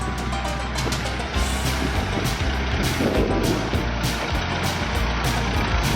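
A 1949 Minneapolis Moline gas tractor engine runs steadily and fairly close, a continuous low mechanical rumble with a brief louder surge partway through, heard during a classic tractor tour.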